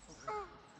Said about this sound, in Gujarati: પક્ષીઓનો અવાજ બધું જ ચકાચક જગ્યા.